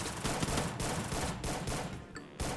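Gunfire in the video game Free Fire: rapid bursts of shots crack out close and loud, a dense fusillade with brief gaps and a final burst, and no voices.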